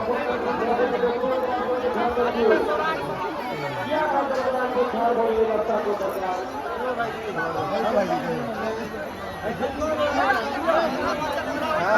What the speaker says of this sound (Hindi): भीड़ एकदम तगड़ा है महादेव मंदिर के